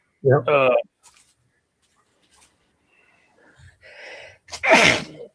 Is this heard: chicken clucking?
no